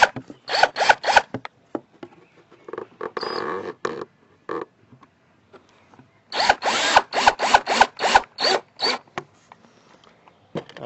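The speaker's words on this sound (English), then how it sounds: "So there's no splintering of the wood as you are screwing the screw in." A drill drives a screw into wood while a turtle enclosure is being built, heard close up in two clusters of short, rapid bursts with brief gaps between them. Quieter scraping and handling noises fill the pause between the clusters.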